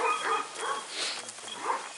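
Kangal dogs at a farm at feeding time, with several barks and yips in bursts across two seconds, moderately near, with no clear talk.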